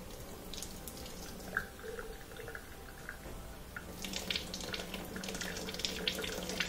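Water trickles weakly from the drain of a portable dishwasher that had trouble draining, a faint, steady flow with soft splashes that grow a little stronger near the end.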